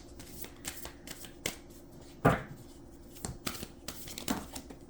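Tarot cards are shuffled and drawn by hand at close range, with a series of soft riffling and flicking bursts and one louder snap of cards in a quiet room.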